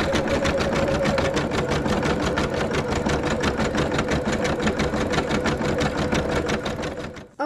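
Embroidery sewing machine satin-stitching a patch on polyester, a fast steady needle rhythm running loud and continuous from start to finish before cutting off abruptly at the end.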